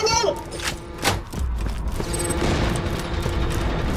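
Cannon turrets fire in the video game Borderlands 2, a fusillade of booming thumps and rattling mechanical bursts layered with game effects, while people talk over the barrage.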